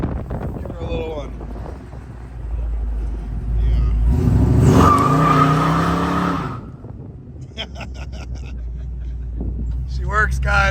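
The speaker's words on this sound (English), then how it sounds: "You're gonna do a burnout, do a burnout." A vehicle revs hard in a loud, sustained burst for a couple of seconds, rising in pitch with a rough squealing edge. Voices talk before and after it, with wind buffeting the microphone.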